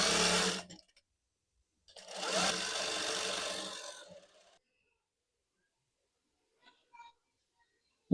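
A sewing machine stitches a kameez up close in two bursts: a short run, a pause, then a longer steady whir of about two and a half seconds. A few faint clicks follow in near silence, with no talking.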